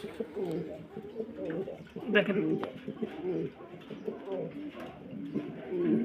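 Several pigeons coo steadily in a loft of quality breeding birds, their low rolling calls filling the space throughout while someone talks over them.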